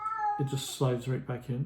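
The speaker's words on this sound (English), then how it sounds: "that's the cat in the background." A house cat gives a short meow in the background, followed by a person talking over the quiet room.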